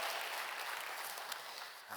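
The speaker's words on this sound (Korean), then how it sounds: "여러분께 박수로 환영하시죠" A church congregation claps together in welcome during a Thanksgiving Sunday service, a brief steady wash of applause that tapers off at the end.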